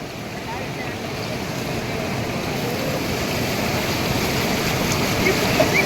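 Water from an overflowing large lake pours over its bank in a steady, loud, broadband rush that holds constant without a break.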